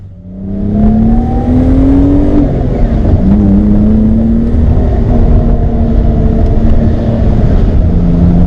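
A BMW E30 333i engine pulls hard while driving, its loud, close drone climbing in pitch, dipping briefly as it shifts, then holding a steady, strained note without talk.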